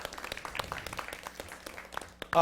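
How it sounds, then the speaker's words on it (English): A career demonstration day audience gives scattered, light clapping after a guest introduction, sparse individual claps rather than a full ovation, fairly quiet and brief. "let's put a round of applause."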